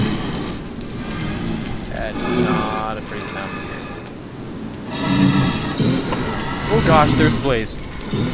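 A Blaze mob in the video game Minecraft gives off a steady, breathy, crackling fire-like noise that swells in two louder stretches, with voices audible in the background.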